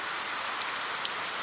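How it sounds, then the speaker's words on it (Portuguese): Rain falling after a windy spell, a steady, dense hiss of drops pattering on surfaces nearby, continuous and fairly loud with no voices. "olha a chuvinha deliciosa"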